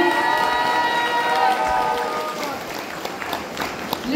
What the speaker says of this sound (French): On peut applaudir très fort pour l'organisation du concours cosplay